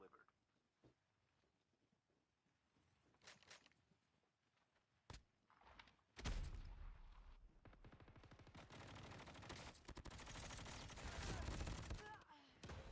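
Gunfire in a Call of Duty match, faint isolated shots early, then sustained loud automatic bursts and rattling volleys, with a voice talking over parts of it.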